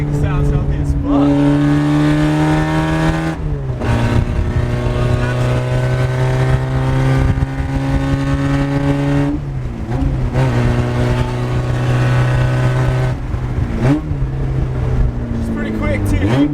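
A Toyota AE86's engine runs close and loud, holding a steady idle-to-mid rev with a few dips and rises in pitch, while people talk over it.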